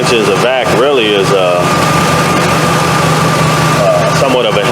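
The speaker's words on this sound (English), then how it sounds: "I can tell the engine seems to be struggling a bit while it's running" A Dodge 4.7 engine idling roughly, a low steady running drone with a faint uneven character, partly under a voice talking nearby.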